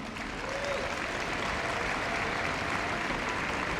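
A large arena crowd at Crufts 2015 applauds rescue dogs as they come on for agility: a broad, continuous wash of clapping, steady and fairly distant, with no distinct voices.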